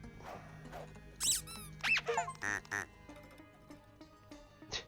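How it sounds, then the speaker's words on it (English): In the video game LinkITo 02, a rubber duck gives several high, rubbery squeaks and quacks in a quick burst, fairly quiet over faint game tones and clicks. "What are you doing with that plastic duck?"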